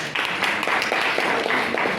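Students in a classroom clap together for a classmate, a dense, steady patter of hands that runs close and fairly loud through the whole moment without any talk.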